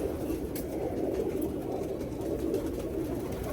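Pigeons, light-coloured show birds kept by a fancier, coo in a low steady murmur that runs through the whole stretch at moderate level, with no voices over it.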